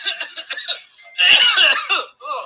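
A police officer's burst of harsh coughing at Baltimore residents, with laughter, erupts after a stretch of chatter, loud and close, then trails off into murmuring voices.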